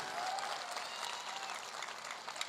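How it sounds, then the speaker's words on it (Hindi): Applause fills a large seminar hall at a business success event in Agra, a dense and continuous wash of crowd clapping that holds steady for the whole clip with no voices over it. "एक जोरदार तालियां होनी चाहिए।"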